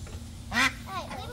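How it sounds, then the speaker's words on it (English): Ducks give a sharp, loud quack followed by a couple of softer, shorter calls nearby, with puppies present in a home setting and faint background noise. "The ducks are not fans of the puppies."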